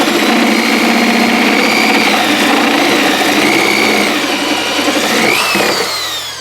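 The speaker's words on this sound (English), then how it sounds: "I've never tried drilling into plastic before with it." A power drill with a wood drill bit boring into a plastic cooling tank, a loud steady whine with a shifting pitch that rises sharply near the end as the bit breaks through.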